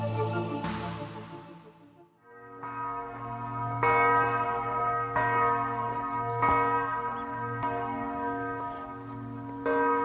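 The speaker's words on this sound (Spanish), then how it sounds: "Así suena una campana repicando desde el campo de concentración de Dachau." A church bell at the Dachau concentration camp memorial in Bavaria tolls in slow, evenly spaced strikes, each ringing out and overlapping the last, with no voices.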